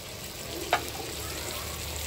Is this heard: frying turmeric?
yes